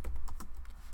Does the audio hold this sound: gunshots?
no